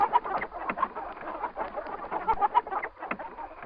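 A hen clucks in a busy, continuous stream of short chattering clucks and soft calls, close by and moderately loud, with no talking.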